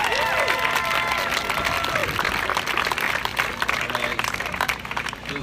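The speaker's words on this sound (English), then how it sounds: "give them a big round of applause" Applause mixed with cheering and crowd noise from an audience at the 2017 Steps for Life charity 5K run in South Florida, steady and fairly loud throughout, with scattered shouts and voices in the crowd.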